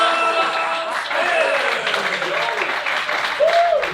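Audience applause for comedian Joe Smith at a comedy show, steady clapping lasting about four seconds with cheers and whoops rising over it.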